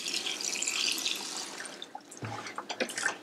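Water poured from above into a bucket of very dry garden soil, a splashing pour that fades into a few gurgles and soft drips, close and moderately quiet.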